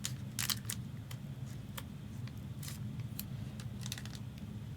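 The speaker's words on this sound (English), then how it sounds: "These scissors are not as strong as I thought." Scissors snip at plastic wrap on a trading card box, sounding as a scatter of short, crisp clicks and cuts at close range over a low steady background hum.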